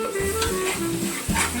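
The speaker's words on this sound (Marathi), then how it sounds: "व्यवस्थित टाकूया आणि ते एकदम खरपूस होईपर्यंत व्यवस्थित भाजूया." Spice masala paste for a crab curry roasting and being stirred in a hot pan, a steady close sizzle with soft scraping strokes of the spoon and no talking.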